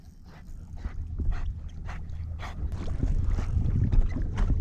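Splashing and sloshing water with a dog paddling and whimpering faintly off a fishing boat on the flats, the churning growing steadily louder.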